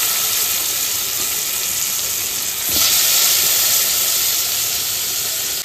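Grated beetroot and carrot frying in butter and a little ghee, a steady loud hissing sizzle throughout that swells briefly midway as the pan is stirred, close and continuous with no talking.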